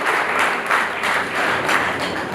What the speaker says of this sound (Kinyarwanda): Amashyi yishimiye.